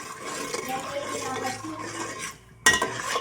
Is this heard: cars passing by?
no